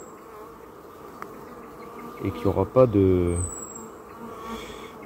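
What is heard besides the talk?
many bees buzzing around a beehive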